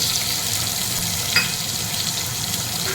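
Sliced onion frying in hot oil with garlic gives a steady, fairly loud hiss with one brief bright splash of sizzle midway, and no voices.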